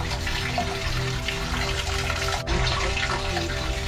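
Cold, carbonated, iron-tinted hypotonic mineral spring water at 6 °C flows steadily from an outlet at Starý Smokovec, a continuous close rushing splash with no voices.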